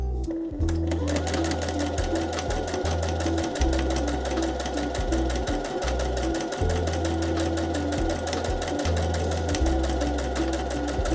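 A sewing machine stitches a key fob, running steadily with a fast repetitive needle clatter and motor hum that pauses briefly a few times, loud and close.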